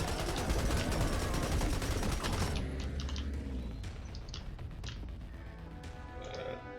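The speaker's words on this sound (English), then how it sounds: "I don't like the firing sound." Assault rifle fire in the video game Unlanded: a dense, rapid burst of shots at first, then scattered sharp single reports that ring out with fading echoes.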